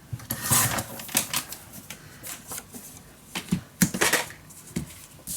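A small 4x4 paper square is cut from designed craft paper, giving a run of crisp snipping and rustling bursts at an uneven pace, close and fairly quiet, with no talk.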